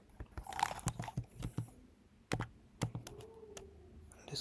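Typing on a computer keyboard: irregular bursts of close, crisp key clicks with short pauses between them and a faint tone in the background.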